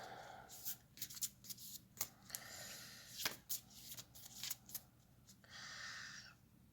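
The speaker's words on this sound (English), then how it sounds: "I'm shuffling the cards." Oracle cards being shuffled close up: quick riffling bursts and sharp flicks in an irregular rhythm, ending with a longer soft riffle.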